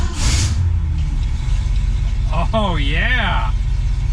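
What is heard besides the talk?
1966 Ford Mustang engine starting and running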